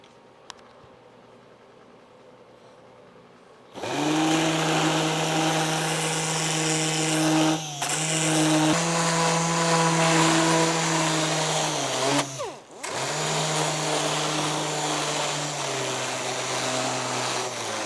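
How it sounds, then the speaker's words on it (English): A random orbital air sander works over a Toyota 4Runner bumper, starting abruptly after a quiet lead-in and running loud and steady with a whining, buzzing tone, briefly dipping twice before spinning back up. "We like to use a random orbital air sander to do this"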